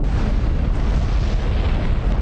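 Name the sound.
atomic bomb explosion over Hiroshima, documentary sound effect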